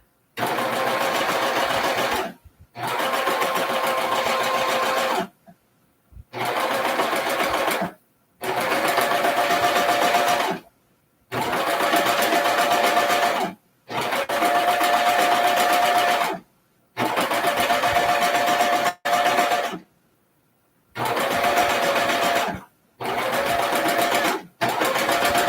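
A sewing machine stitches fabric in repeated bursts of rapid, steady whirring, close and clear, broken by short stops as the cloth is guided through.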